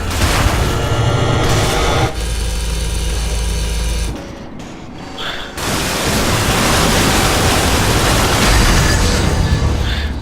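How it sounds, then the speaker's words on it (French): A grenade blast in the roguelike shooter Cryptark: dense, loud roaring noise that stops abruptly, dips briefly, then surges back into a long rumbling wash, with no talk. "J'ai lancé une mine, hein. Enfin une grenade,"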